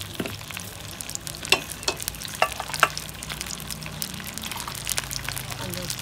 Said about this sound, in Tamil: வெண்டைக்காயை கொஞ்சம் வதக்கி நம்ம எடுத்துக்கலாம்.